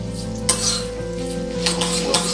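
Urad dal sizzles and fries steadily in hot oil in a pan as a tempering for coconut thuvayal, with a few soft stirring scrapes and clinks breaking through the continuous crackle.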